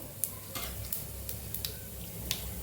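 Soft, steady sizzling of whole cumin seeds frying in hot oil, with a few light scraping and clinking sounds of stirring in a pan.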